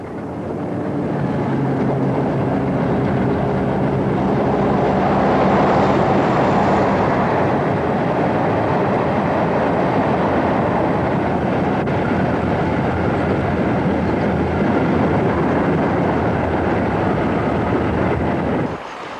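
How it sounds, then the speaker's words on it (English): British Railways Type 2 diesel locomotive running on the Midland Main Line, a loud continuous engine drone and rumble that holds steady for nearly twenty seconds, slightly swelling near the middle. "The British Railways Type 2s had a long history on the line."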